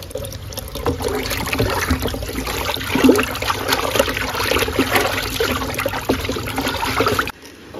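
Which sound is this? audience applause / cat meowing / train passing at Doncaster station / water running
water running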